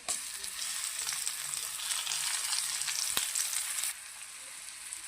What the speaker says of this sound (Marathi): टोमॅटो चांगला फ्राय झाला आहे